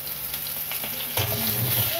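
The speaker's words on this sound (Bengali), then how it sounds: "আলুগুলো একটু নুন হলুদ দিয়ে ভালো করে নেড়ে নেব" Potatoes frying in a little oil with salt and turmeric, stirred in the pan: a steady sizzle with scraping stir strokes that grow louder and busier partway through.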